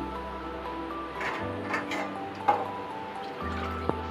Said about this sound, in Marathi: अजून 1 ग्लास पाणी टाकणार आहे